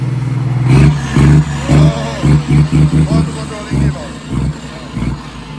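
A new truck's diesel engine blips and revs in a string of short bursts, close by, with people talking over and between the revs.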